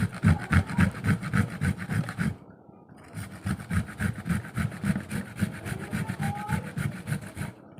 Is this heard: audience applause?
no